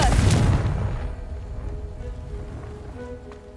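Confringo fire spell cast at a goblin camp in Hogwarts Legacy, a loud burst and boom at the start that decays into a low rumbling tail with faint crackling.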